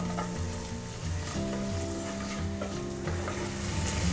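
Onion cubes fry in a pan, a loud, close, steady sizzle with occasional stirring scrapes and a faint background hum throughout, with no voices.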